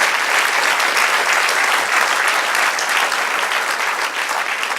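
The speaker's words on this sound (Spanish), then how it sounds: "Denle un aplauso al Señor." A church congregation breaks into loud, sustained applause during a sermon, a dense even patter of many hands clapping together that holds steady before easing slightly at the end.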